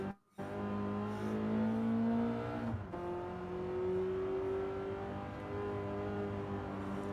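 Gran Turismo race car engine accelerating through a gear shift, a steady rising drone that dips briefly at the change and then climbs again, continuous and fairly close.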